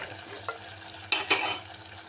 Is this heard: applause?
no